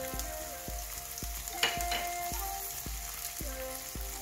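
Black pepper and ginger fry in hot ghee with a steady, close sizzle. Soft regular knocks run through it, and one sharper pop stands out midway.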